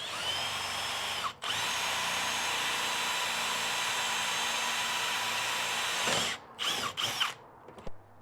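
Power drill boring holes to mount a roof tent on a Toyota Tacoma, a steady close whine running several seconds, a short pause, then a long continuous run ending in a few brief bursts.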